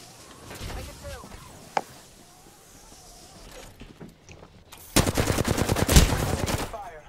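Rapid automatic gunfire in the Apex Legends battle royale game, a single sharp shot early on followed by a loud sustained burst of dense, rattling fire near the end, with quieter game noise between.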